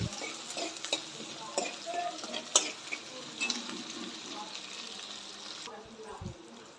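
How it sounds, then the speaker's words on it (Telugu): Light sizzling of chillies frying in a pan, with the scrape and clink of a spoon stirring, fairly quiet, a faint voice in the background. "తర్వాత మిర్చి వేసుకోవాలి. బాగా కలుపుకోవాలి దూరగా."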